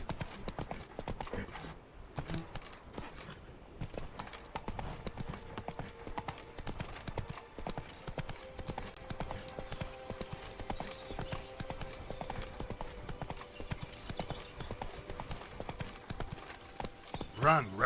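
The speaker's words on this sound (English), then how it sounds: "Run, Roach." A horse gallops in The Witcher video game, its hooves beating in a rapid, steady clip-clop rhythm that carries on without pause.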